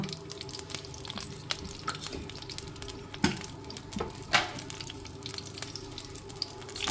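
Urad dal and cumin seeds frying in hot fat as a tempering for a rice dish: a steady, close sizzle broken by a few sharp crackles and pops.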